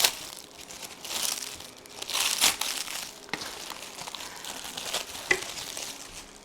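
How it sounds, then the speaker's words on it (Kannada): A Meesho parcel with double-taped packaging being carefully opened, giving close, irregular bursts of crinkling and tearing plastic and paper, with no talking. "ಇದು ಸ್ವಲ್ಪ ಹುಷಾರಾಗಿ ಓಪನ್ ಮಾಡಬೇಕು."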